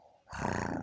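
A short, gruff bark-like burst made by a human voice imitating a small dog, brief and fairly faint.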